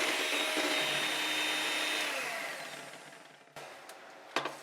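An electric mixer beats one cup of whipping cream in a bowl with a steady close whir that slowly fades in loudness, then stops with a few brief clatters near the end.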